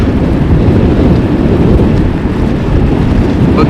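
Strong wind roars steadily into an outdoor microphone at Amsterdam Schiphol on a sunny but stormy day, a loud, continuous rumbling buffet with no break and no voices.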